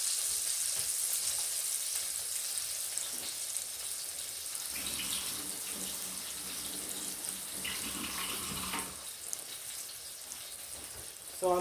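Salmon pan-frying on a weeknight stove, a steady broadband sizzle running throughout with a few brief clatters from the pan and utensils partway through.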